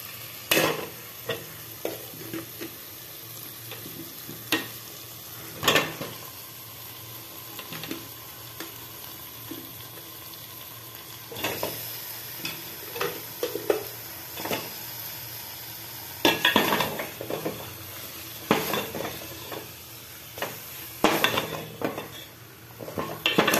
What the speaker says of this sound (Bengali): এরপরে যখন মশলা কষতে কষতে তেল বেরিয়ে আসবে, তখন ওর মধ্যে আমি মাংসটা অ্যাড করছি।